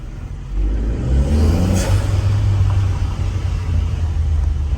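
An Abarth Punto fitted with a BMC twin air filter rumbles steadily, its engine rising to a low, sustained rev after a brief idle, fairly close and alone.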